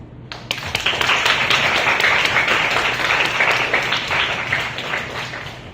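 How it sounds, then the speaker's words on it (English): A crowd applauding steadily, many hands clapping in a dense, sustained burst that starts abruptly and tapers slightly toward the end. "Let's give them a big applause."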